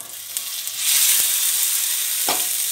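Tomatoes drop into hot oil in a paella pan and a loud, steady sizzle swells up, with a brief stir or scrape partway through, close and with no voices.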